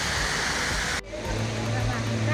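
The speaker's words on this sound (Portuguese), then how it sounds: "Tem uma cachoeira." An artificial waterfall at the Hot Beach water park in Olímpia, a steady splashing roar that drops suddenly partway through, then continues more quietly under a faint hum, with no voices.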